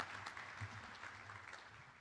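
Faint applause from an audience at a university honors college medal ceremony honoring faculty, staff and students, a soft, distant, even patter of hands with a low room hum beneath.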